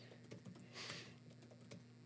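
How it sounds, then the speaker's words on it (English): Keyboard typing during a podcast-style chat, a quiet run of soft irregular key clicks with one brief louder burst midway, low steady background hum, no talking. "Just typing."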